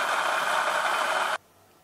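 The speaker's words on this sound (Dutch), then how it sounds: "Ik ga deze twee ingrediënten vast blenderen." A kitchen blender whirs loudly and steadily while chopping garlic and onions, a dense broadband motor roar that stops abruptly after about a second and a half.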